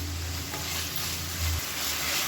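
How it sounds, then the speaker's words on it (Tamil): Tomatoes with ginger garlic paste sauté in a pan, giving a steady close sizzle and frying hiss. A faint low stirring hum runs underneath, with no voices. "1 டீஸ்பூன் இஞ்சி பூண்டு பேஸ்ட் சேர்த்து வதக்கிக்கலாம்."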